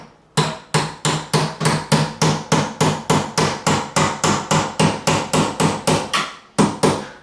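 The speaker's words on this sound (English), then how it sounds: "I need to get a hammer." A hammer strikes steadily at close range, about twenty loud, evenly spaced blows in a row, while working on a Warwick Corvette Double Buck bass neck repair, with no talk.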